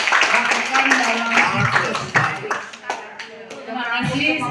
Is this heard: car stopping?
no